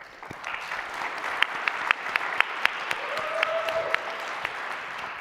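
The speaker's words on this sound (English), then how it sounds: "Please give us a round of applause for our team." Applause at the MIT 100K Launch Competition, a hybrid pitch event, with moderate clapping from the audience and several crisp, sharper claps standing out near the front over the steady patter.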